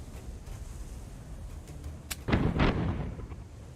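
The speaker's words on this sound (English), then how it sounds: "That wasn't a swivel cannon. That was a cannon." A ship's cannon fires in the pirate video game Tortuga: A Pirate's Tale, a sharp crack followed by a booming, rumbling blast with a short rolling tail, over a steady ambient game bed.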